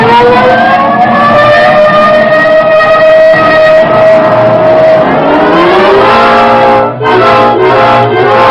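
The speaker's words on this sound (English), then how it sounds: "This time you can use the siren." A loud, steady wailing siren holds a long tone, then dips and rises again over a rumbling engine, close by.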